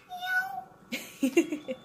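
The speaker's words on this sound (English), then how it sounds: "There's a cat." A cat meows a few times, short high cries spaced out, with soft voices nearby.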